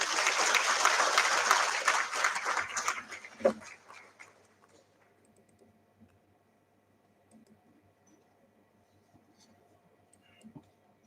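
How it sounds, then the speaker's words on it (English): An audience at an academic conference on Industry 5.0 claps in a full round that fades out after about three seconds, leaving a quiet room with a few faint clicks and scattered small sounds. "Can we have a louder round of applause, please?"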